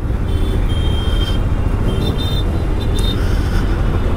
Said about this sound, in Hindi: ऐसा कभी नहीं होता कि आपको ट्रैफिक ना मिले रास्ते पे।